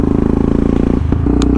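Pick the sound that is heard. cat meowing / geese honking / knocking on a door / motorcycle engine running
motorcycle engine running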